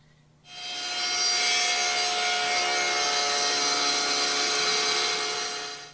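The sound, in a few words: table saw ripping a strip off the edge of a wooden board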